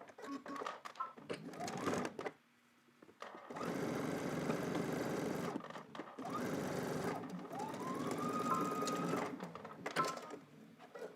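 A sewing machine runs in long steady bursts as it stitches fabric down along a seam, whirring close and loud with short pauses between runs and no talking.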